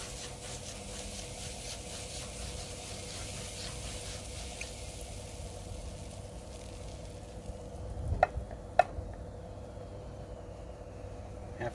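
Butter melting on a hot Blackstone griddle while making crepes gives a soft, steady sizzle, with a couple of sharp scraping clicks from a utensil near the end and otherwise quiet surroundings.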